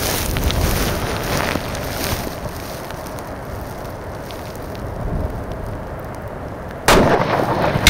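A single sharp, loud rifle report from a .338 Lapua Magnum rifle fitted with an Athlon Ares BTR scope cracks out at an outdoor range near the end, following several seconds of gusty wind noise.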